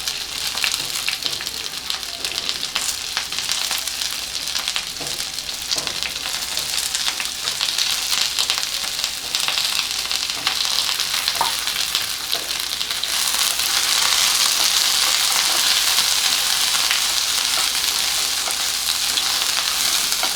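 Onions, green chillies and spices sautéing in a pan, a steady close sizzle and crackle of frying that runs throughout and grows slightly louder and brighter toward the end, with no talking.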